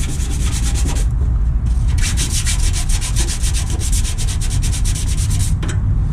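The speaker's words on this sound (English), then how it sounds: "you get your sandpaper, kind of scuff the backside of it." Sandpaper scuffing the back of a plastic car door molding in quick, rhythmic strokes, close and loud with a short pause partway through and no voices.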